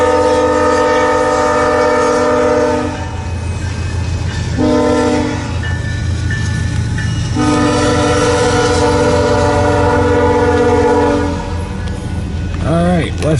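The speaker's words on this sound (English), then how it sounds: "Westbound stack train" A westbound double-stack freight train passes in Fremont, Nebraska, on a cold, windy evening, sounding long, loud horn blasts in repeated bursts over a steady rumble of rolling cars that lasts throughout.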